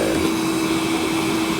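Close, loud, steady roar of a wet vacuum sucking vinegar solution out of a wool carpet during red wine stain cleanup, a continuous droning whine with no pauses.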